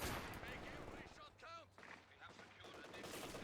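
Distant bursts of MG42 machine gun fire in a World War II real-time strategy game, with explosions and crackling battle noise; a voice talks over the top.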